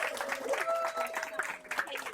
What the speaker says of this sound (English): So a round of applause to Ella.